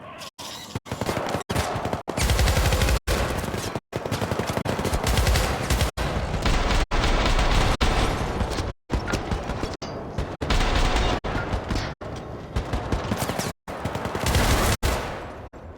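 Pistol gunfire in the Syndicate video game rings out as loud, dense bursts of rapid shots, close and continuous, with a few brief gaps between volleys.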